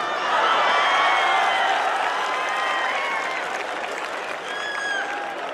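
An audience at a Bollywood night comedy show breaks into sustained applause, a dense and loud wash of clapping that holds steady for several seconds and then thins slightly near the end.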